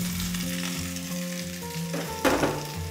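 Cut tomato pieces sizzle in a hot pan with fenugreek for a Sri Lankan village-style tomato curry, a close steady crackle that bursts louder briefly near the end.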